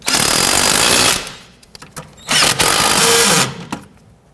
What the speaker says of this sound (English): tighten down these nuts